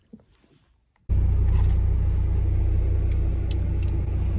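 A car drives down the road, starting with a quiet moment and then a sudden, steady loud rumble of road and engine noise heard from inside.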